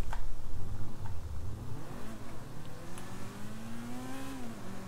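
A Hijak Ruston car engine in GTA V Online revs up with a rising, sweeping pitch, loud and close, building steadily over several seconds with no talk over it.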